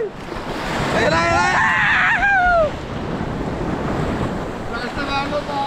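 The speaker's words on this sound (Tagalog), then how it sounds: "Lakas yung alon" Strong waves break and rush over shallow water under gusty wind buffeting the microphone, with excited voices calling and shouting over the surf.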